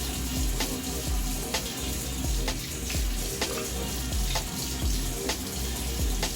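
A bathroom tap runs continuously while a beard is rinsed, a steady close splashing stream with small shifts as hands move through the water, and no talking.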